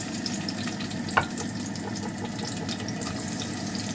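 Ingredients for tinola sauté in a pan abroad, a quiet, even sizzle with light bubbling and a single brief clink partway through.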